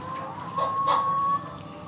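A chicken on a farm gives a short, clear call over low background noise.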